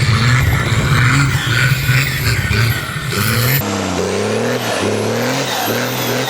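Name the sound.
Cummins diesel truck driving on salt flats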